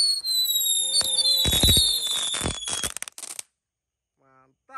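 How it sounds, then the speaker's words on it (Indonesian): Six mercon tikusan firecrackers go off at night in a dense burst of loud crackling pops and whistling fizz, tapering away into silence. "Lanjut kita nyalakan mercon tikusan. Ini ada 6. Langsung kita nyalakan semuanya."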